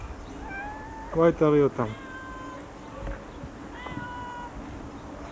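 Cats meowing indoors at close range, a short burst of several overlapping meows followed by fainter scattered mews, with someone talking throughout.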